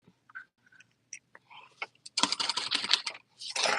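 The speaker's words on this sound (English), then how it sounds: "when I pull the zipper closed or open" Zipper on a handmade modified peek-a-boo beauty bag, a few soft clicks followed by a louder rasping pull, a pause, then another quick zip, close and clear with no talk.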